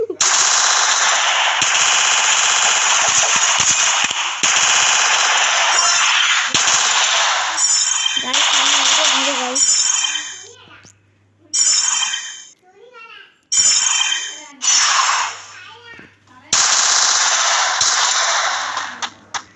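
Rapid automatic gunfire from a shooting video game, loud and nearly continuous for the first ten seconds, then breaking into short sharp bursts separated by brief pauses.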